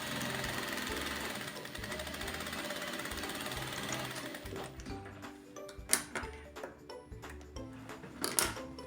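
A sewing machine runs a seam along the hem border of a fabric dish towel, rattling rapidly and steadily for about five seconds, then stopping and starting in short, quieter bursts with sharp clicks.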